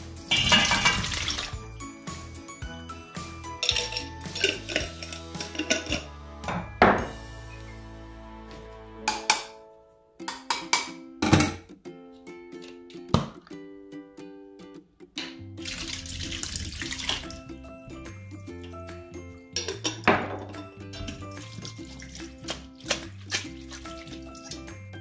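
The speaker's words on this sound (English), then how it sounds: "while the nata de cocos are draining" Nata de coco draining in a kitchen, an irregular run of water trickling and splashing with gurgles and faint clinks, quiet, with brief silent gaps between bursts.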